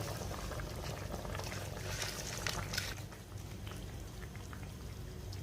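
Water at a rolling boil in a pot as soaked basmati rice is tipped in for chicken pulao, a dense steady bubbling and hissing that stays loud and close, with a soft splashing shift midway.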